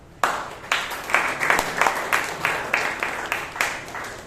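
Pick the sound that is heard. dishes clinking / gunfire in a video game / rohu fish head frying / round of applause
round of applause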